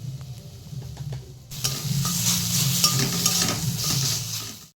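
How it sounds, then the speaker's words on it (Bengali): Pointed gourd is stir-fried with salt, turmeric and cumin, opening with quiet stirring scrapes before a loud, steady sizzle takes over and keeps going until it fades at the end. "এবার একটু নাড়াচাড়া করে ভাজা ভাজা করে নেব"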